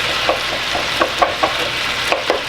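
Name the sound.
chopped onions frying in a pan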